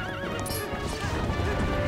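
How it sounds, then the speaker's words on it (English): A horse neighs and whinnies in the Zelda: Twilight Princess video game, with clip-clop hooves and busy game sounds filling the short stretch at steady loudness. "That poor horse."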